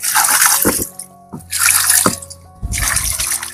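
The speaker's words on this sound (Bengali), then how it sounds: "এবার সামান্য কিছু পরিমাণ জল দিয়ে দিই।" Water poured onto potted Philippine black sugarcane plants growing in soil inside a fruit crate, heard as three close splashing bursts separated by short pauses.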